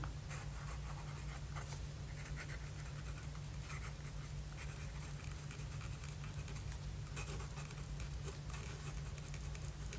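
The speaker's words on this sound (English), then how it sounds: "The usual Esterbrook. And let's do some quick writing." An Esterbrook Niblet fountain pen nib scratches softly across paper in quick strokes, a faint, close, continuous patter over a low background hum.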